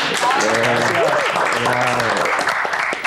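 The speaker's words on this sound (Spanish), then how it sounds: "así que un aplauso para los dos" Applause from a crowd at a festive stage show, a continuous patter of clapping heard over voices and chatter for the whole stretch.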